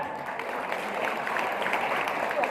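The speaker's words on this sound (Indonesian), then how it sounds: "Tepuk tangan" Audience applause during an Indonesian community outreach session on gender equality, a steady patter of clapping at moderate level with some voices mixed in underneath.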